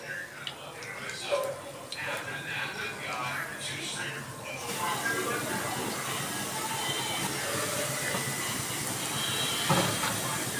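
Semolina gulab jamun frying in hot oil on low heat make a steady, broad hiss that grows fuller and louder partway through, with a voice audible underneath.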